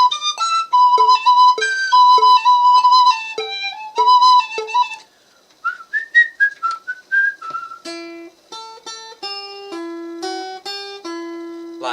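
The B part of McMahon's Reel, an Irish tune, plays on a play-along backing track with a bright, whistle-like lead. It runs as quick ornamented runs, then a short pause, then longer held notes, clear and upfront.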